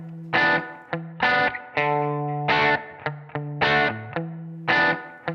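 Heavily distorted electric guitar through a WhoWatt 100 amp blasts out in loud, harsh bursts, with sustained fuzzy chords broken by short choppy stabs, no voices.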